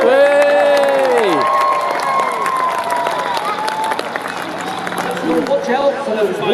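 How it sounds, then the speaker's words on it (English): An airshow crowd at Clacton cheers and applauds the Fireflies display team, with loud sustained cheering under a voice on a public address system. "A cheer for the Flyers so far?"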